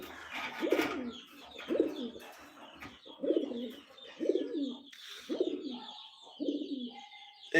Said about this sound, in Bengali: এখন এই যে দুটি কবুতর